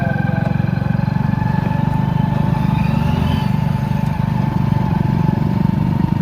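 A motor vehicle engine runs loud and close with a steady low rumble that holds for the whole stretch, like a vehicle passing or running alongside runners during 1600-metre training.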